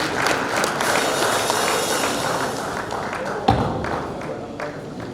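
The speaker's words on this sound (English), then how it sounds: "Round of applause for him, please." Audience applause for an award recipient at the 2022 Verbatim Magazine Awards ceremony, a steady wash of many hands clapping for about five seconds, with a single louder thump partway through.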